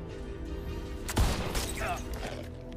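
Gunfire in a film action scene, a sudden loud shot followed by a short rattling volley and a booming tail over a steady background, with talking underneath.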